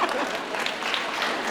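Audience clapping at a panel discussion on women's financial health, a brief steady wash of applause from a room full of people with murmured voices mixed in.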